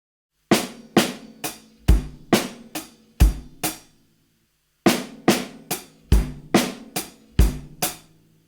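Drum kit plays the remaining part of a groove in 7, two matching runs of punchy kick, snare and cymbal hits separated by a short pause, close and alone.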